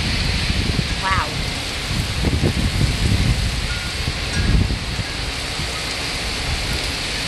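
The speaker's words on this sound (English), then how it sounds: "It's really raining buckets." Heavy monsoon rain pours down steadily in North Olmsted, Ohio, a dense loud hiss of downpour with gusting wind and low rumbles, while a person exclaims faintly under it.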